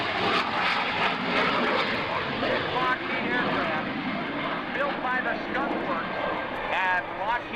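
A Lockheed F-117 Nighthawk jet making a pass at an airshow, a broad continuous roar of jet engine, fairly distant and steady, heard under an announcer talking over a public address system.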